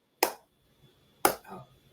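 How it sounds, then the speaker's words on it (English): Two slow, deliberate hand claps about a second apart, sharp and close in an otherwise quiet room, each followed by a faint echo-like tail. "I was awkwardly slow clapping."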